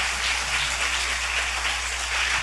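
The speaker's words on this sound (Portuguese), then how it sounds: "Quero que você receba o homem de Deus, pastor Hugo, aplaudindo a Jesus." Steady applause from a church congregation greeting a pastor at a service, a dense, even wash of clapping that holds at constant loudness throughout with no voices on top.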